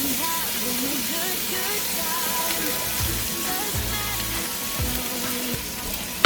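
Mixed vegetables sizzle and fry in a pan with herb butter, a steady close hiss with occasional stirring clunks and faint music or voice underneath.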